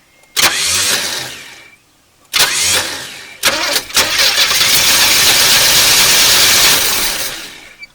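A starter cranks a 1981 Chevrolet El Camino, left on a trailer for 21 years, in two short bursts, then on the third try the engine catches and roars to a loud, steady idle.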